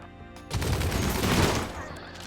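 Autocannon turrets firing in the strategy game RimWorld: a dense, sustained burst of rapid gunfire lasting about two seconds, loud and close, with no talk over it.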